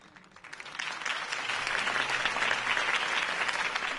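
A video game crowd's applause builds quickly and holds steady, a dense wash of clapping heard from a distance without any voices.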